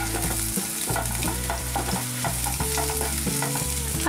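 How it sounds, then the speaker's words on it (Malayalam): Sliced rounds of small onions (shallots) sizzle steadily in hot oil with mustard seeds for a Kerala-style moru curry, with scraping spoon strokes stirring them at a regular pace throughout. "ചേർത്ത് കൊടുത്ത് ഇത് നന്നായിട്ടൊന്ന് ഇളക്കണം"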